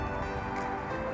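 Rain falls outdoors in Northern California as a steady, soft, even hiss of drops with no voices, holding constant throughout.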